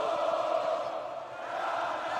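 Basketball arena crowd at a FIBA women's final between Al Ahly Sporting Club and Ferroviario Maputo, cheering steadily and loudly after a three-pointer, a broad sustained roar with no pauses.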